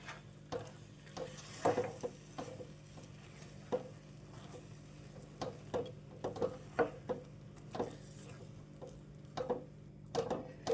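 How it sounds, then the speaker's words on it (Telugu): Grated paneer is stirred into a sweet bobbatlu stuffing in a pan, with a soft bubbling sizzle under repeated rhythmic spoon scrapes and taps against the vessel. "ఇలా యాడ్ చేసుకున్న తర్వాత మనం తురుపు పెట్టుకున్న ఈ పన్నీర్ని కూడా ఇందులో వేసేసుకుందాం ఇప్పుడు అందరినీ బాగా కలిపేసుకోవాలి"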